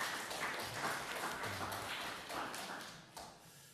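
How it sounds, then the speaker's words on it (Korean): A church congregation claps together during a Sunday worship service to bless a newborn baby boy, producing a steady, dense patter of applause that holds for several seconds before thinning out. "우리 장바다 어린이를 박수로 축복했으면 좋겠습니다"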